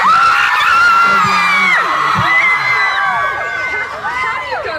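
A large crowd of young fans in Sydney, Australia screams continuously at a pop star's event, loud and sustained shrieks layered over one another with no pauses.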